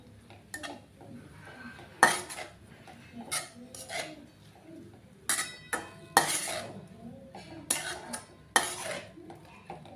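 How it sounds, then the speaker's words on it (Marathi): Dill greens (shepu bhaji) being sautéed in a pan, with repeated sharp scrapes and clanks of a spoon against the metal over a soft background sizzle, in uneven bursts close by. "भाजी छान परतून घ्यायची आहे."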